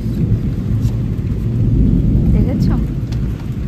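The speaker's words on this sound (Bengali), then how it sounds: "আর মেঘেও ডাকছে খুব।" Thunder rumbles low and steady through heavy rain and strong wind near an open window during a monsoon storm, with a person speaking briefly over it.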